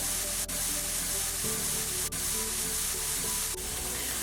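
Onions and peppers sizzle steadily in a hot pan, a loud continuous crackling hiss with brief dips, no voices.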